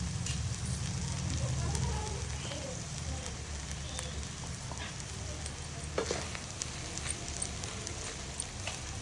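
Mushroom fried rice sizzles and frys in a pan after soy sauce and red chilli sauce go in, a steady dense hiss with occasional stirring scrapes throughout.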